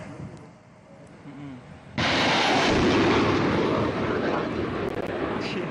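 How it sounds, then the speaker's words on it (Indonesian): A sudden loud roaring blast of a long-range military rocket launch kicks in partway through and keeps thundering on as a sustained rushing roar after a quieter stretch. "Bombardir roket jarak jauh diluncurkan"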